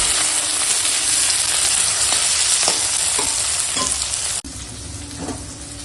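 Cut flat beans with taro and cauliflower stems fry in a pan with a loud, dense, continuous sizzle and occasional stirring scrapes, which drops sharply in level near the end.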